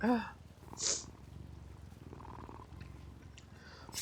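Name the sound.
cat purring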